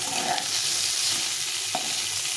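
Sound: pointed gourd (potol) frying in oil

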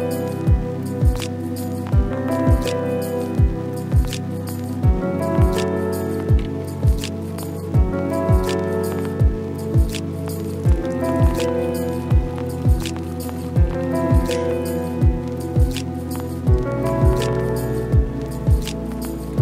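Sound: coffee maker brewing coffee

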